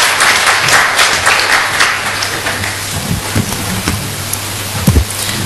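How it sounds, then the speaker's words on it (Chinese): An audience applauds warmly to welcome a film director at a public talk, a dense, loud, sustained clapping with no voices over it. "我们请热烈鼓掌欢迎"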